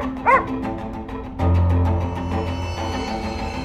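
A man's dog gives a short, high yip near the start, then a low steady drone with faint tonal whines carries on for the rest of the moment.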